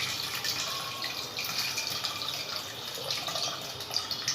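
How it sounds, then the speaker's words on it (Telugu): A thin stream of tamarind water pours steadily into a pot, a soft continuous trickle with faint splashes, quiet and close. "ఆ చింతపండు రసాన్ని ఇందులోకి వేసుకోవాలి"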